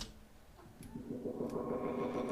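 Intro of a hip-hop track, processed with reverb, an auto filter and a washout effect, swelling from a muffled, smeared wash into fuller low-end music over a couple of seconds.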